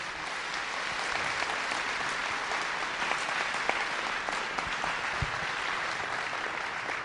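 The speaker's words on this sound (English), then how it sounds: "Give both of them a round of applause, would you?" Steady, dense audience applause filling a hall at a creation–evolution debate at the University of Arkansas, a large crowd clapping continuously at even loudness throughout.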